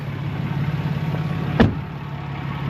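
A 2014 RAM 3500 Laramie Mega Cab with a 6.7L Cummins diesel idles with a steady low rumble, broken by one sharp thud or clunk nearby midway through.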